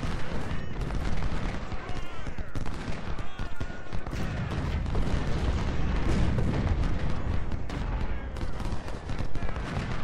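Cannon fire from 10-pounder artillery in a Civil War strategy game, a steady barrage of booming shots and rumbling blasts layered densely and loudly throughout.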